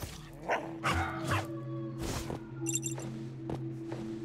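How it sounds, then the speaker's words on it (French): A dog in the Haak video game barks and lunges in an attack, with several sharp yapping barks and whimpers spaced irregularly over faint game music and effects. "Oh, le chien, il m'a défoncé."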